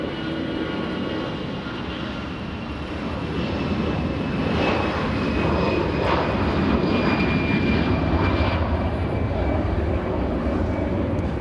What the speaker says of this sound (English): we're gonna go for the Lufthansa 747 on final approach